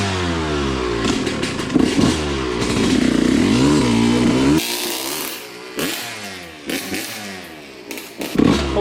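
A Suzuki RM125 two-stroke dirt bike screams nearby, its engine revving high and rising and falling through gears in sharp, buzzing bursts, with brief drops between throttle blips.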